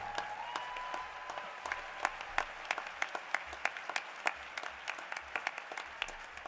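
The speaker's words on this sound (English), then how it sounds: "a round of applause for our inductees into the Hall of Fame." An audience at the World Transplant Games 2023 opening ceremony in Perth, Australia applauds its Hall of Fame inductees, steady crowd clapping with distinct individual claps popping out across the room, continuous and moderately loud with no speech.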